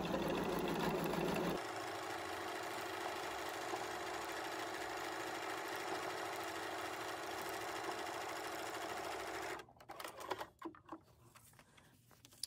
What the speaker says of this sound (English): I'm going to take this to the machine and sew that one last stitch line in our template